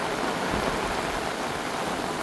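Heavy rain driven by gusting wind in a Konkan village at Vaibhavwadi, a dense, steady roar of water that stays loud and even throughout, with no voices.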